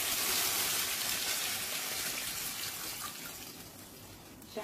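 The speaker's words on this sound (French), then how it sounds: "En ce moment là je vais ajouter de l'eau." Water poured into a pot of fried lamb and onions, a broad rushing hiss that starts strong and gradually eases off, ending with a small knock.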